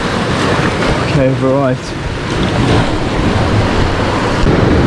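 Ocean waves surging over coastal fishing rocks, a steady broad roar of surf and wind close by, with someone talking briefly near the start.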